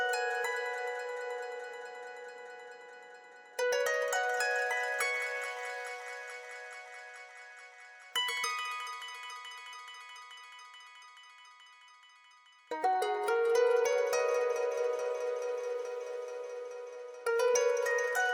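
An ambient synth texture from the Arcade Aura Bank rejuvenation preset plays alone, bright sustained tonal chords that strike, slowly decay, and restart in four or five swells.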